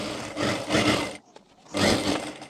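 A sewing machine stitches the seam of baby girl's cargo trousers in two loud, close, rapid whirring runs, with a brief quiet pause between them.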